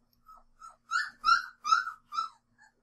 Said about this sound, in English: That's a puppy, by the way.